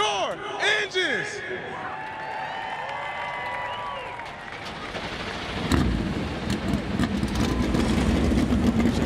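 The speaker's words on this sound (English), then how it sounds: "Drivers, start your engines." NASCAR stock car engines firing up on the grid at Homestead-Miami Speedway before the Straight Talk Wireless 400, a loud, dense roar that swells and thickens from the middle on, mixed with crowd noise and the booming PA.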